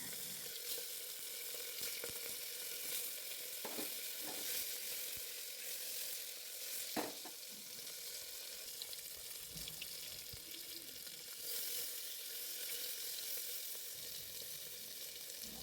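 Turmeric-and-salt-rubbed hilsa fish sizzling in mustard oil tempered with nigella seeds and slit green chillies inside a pressure cooker, a soft continuous hiss with occasional clinks and splashes, fairly quiet and without speech.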